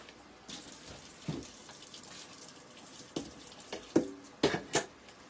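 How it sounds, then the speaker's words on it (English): Rinsed vegetables are drained in a kitchen sink: soft running water under scattered clunks and clatters, several sharper knocks bunched toward the end, close by with no voices. "I can't drain vegetables after rinsing them and talk at the same time"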